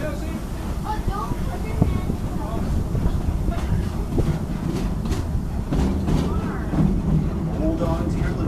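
The Busch Gardens Railway red train rumbles along its track with a steady low roar and occasional clanks, near and continuous; a voice speaks over it at times.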